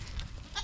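A goat held close to people lets out a short bleat, a brief nasal cry rising near the end over soft handling noise.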